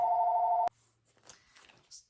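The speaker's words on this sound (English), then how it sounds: "right on time, there's the phone" A telephone rings loudly and steadily indoors during a cross-stitch chat, then cuts off abruptly after under a second, leaving faint rustling and small handling noises.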